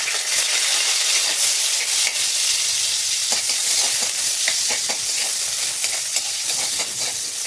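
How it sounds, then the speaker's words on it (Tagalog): Garlic and onion frying in hot cooking oil for sautéed pechay with sardines, a loud, steady sizzle with crackling pops throughout and no voices. "Init na, lagyan natin ito yung bawang ay sibuyas."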